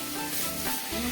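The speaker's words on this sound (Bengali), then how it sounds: "ও, খিচুড়িতে তড়কা লাগানো হবে।" Tadka tempering spices sizzling in hot oil for khichuri on a home stove, a loud, steady hiss and crackle close up, with no talking.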